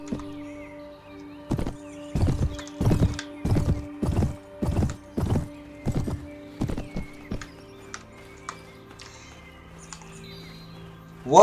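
Elvish horse from a Lord of the Rings game clip-clopping in a steady run of about a dozen loud, evenly spaced hoof thuds, then slowing and fading, with a faint whinny over low game ambience.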